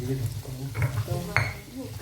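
Ingredients for ayam geprek are pounded and ground in a stone mortar, giving a few dull close thuds and scraping knocks amid kitchen clatter, with quiet talk nearby.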